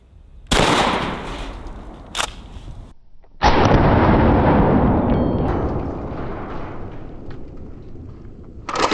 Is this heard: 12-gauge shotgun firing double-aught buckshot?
yes